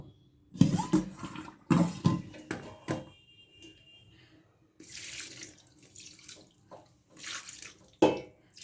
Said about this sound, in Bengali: ভিনিগারে কাটানো হয়েছে বলে আমি একটু জল দিয়ে ধুয়ে নেব